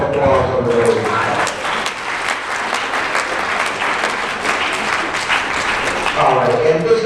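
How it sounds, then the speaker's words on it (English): Audience applause fills a hypnosis show at a Cheney grad night, steady dense clapping from a crowd throughout, with a voice talking over it near the start and again at the end. "Give them a round of applause over there."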